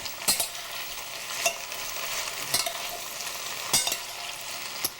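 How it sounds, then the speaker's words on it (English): Onions, garlic and celery fry in a pan with a steady sizzle, broken by a few sharp scraping stirs spaced about a second apart, close and clear, with no voices. "so we've got our trinity in there. And we're going to give it a quick stir."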